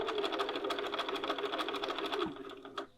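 Close up, a sewing machine stitches a dart in a bodice, a steady rapid mechanical whirr and tick that slows and stops near the end.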